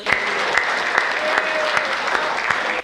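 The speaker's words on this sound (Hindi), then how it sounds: "ताली जरा बजाओ" Audience applause at a Hindi comic poetry recital, dense continuous clapping from a large crowd with occasional sharper claps, steady and loud until it cuts off at the end.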